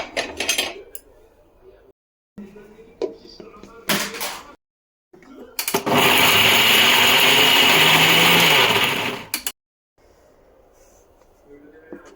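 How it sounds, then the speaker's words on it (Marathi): A mixer grinder grinds cooled roasted masala for village-style mutton curry. Short whirring bursts and clatter lead into one long, loud, continuous grind lasting a few seconds, then it cuts off. Brief sounds of handling surround the motor. "आपण आता याला वाटून घेऊया"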